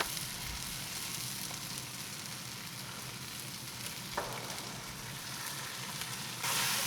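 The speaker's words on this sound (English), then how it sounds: "Just going to keep this stirring until we get all these ingredients all incorporated." White chicken chili with cream cheese and chilies sizzling and being stirred in a pot on a Kamado Big Joe grill, a faint, steady bubbling hiss with one brief scrape near the end.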